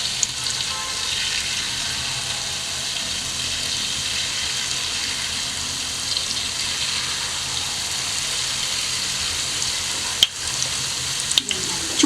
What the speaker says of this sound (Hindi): बोतल को पुश करते जाएंगे और इस तरीके से जलेबियां बनाते जाएंगे।